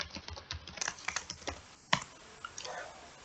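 Password typed on a computer keyboard, a quick burst of close key clicks that thins out into a few scattered taps and one louder keystroke, quiet with no talking.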